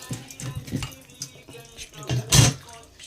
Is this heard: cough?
no